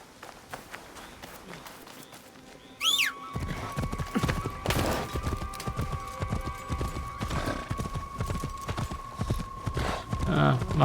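Horse hooves clip-clop steadily in a samurai-era Japan video game as the rider travels, with a rising whoosh near the start and a sustained tone running beneath the galloping rhythm.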